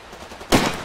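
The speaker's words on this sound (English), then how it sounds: "Gunfire in the distance." Distant gunfire in Far Cry 2, a sudden muffled burst of shots after half a second of quiet, fading out quickly.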